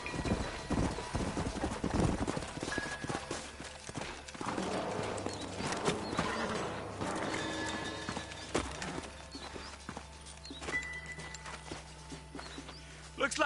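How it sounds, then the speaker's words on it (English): Horses' hooves clip-clop steadily on the ground in the Western video game Red Dead Redemption, a continuous rhythmic trot heard under a voice and other game sounds, with an occasional whinny. "Let's hold up a minute and find a spot for our horses."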